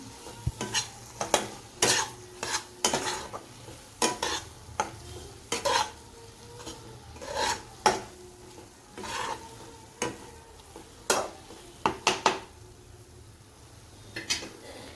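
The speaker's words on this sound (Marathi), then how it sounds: "कारलं घातल्यानंतर एकजीव करून घ्यायचं एक छान असं मसाल्यात परतून घ्यायचा" Cooked bitter gourd being sautéed in black masala in a pan: a soft sizzle under frequent sharp spatula scrapes and clacks against the metal, irregular and close, with no talk.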